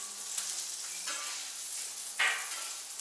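Sausage patties sizzling on a Camp Chef FTG600 flat top grill, a soft steady frying crackle with a few brief scraping or shifting sounds as the patties are moved, fairly quiet and close with no talk.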